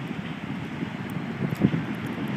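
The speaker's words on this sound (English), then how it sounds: "It's a little windy right now." Wind gusts across the open roof of a downtown Pueblo parking garage during a snowstorm, a low, steady rumble of buffeting against the microphone with a brief stronger gust midway and no voices.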